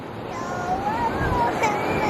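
Surf and ocean waves washing up on a sandy beach, a steady rushing wash with wind noise, while a voice and other speech sound over it.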